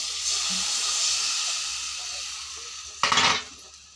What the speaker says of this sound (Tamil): நல்லா பாருங்கள், நல்லா குழம்பு கொதிச்சு வர ஆரம்பிச்சிச்சு.